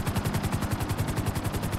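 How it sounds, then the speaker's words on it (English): A light machine gun firing in a war video game, a fast steady stream of close, loud rounds with an even rhythm across the whole burst, no talk. "Hit him with the light machine gun."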